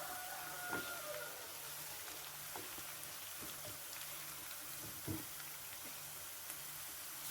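Ginger garlic paste hitting hot oil with frying onions, a steady fine crackling sizzle with scattered pops, soft and even throughout, no voices.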